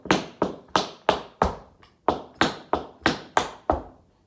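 Tap shoes play a tap dance double rudiment, a close run of about a dozen sharp metallic taps in quick pairs with one short pause, loud and clear with no talking.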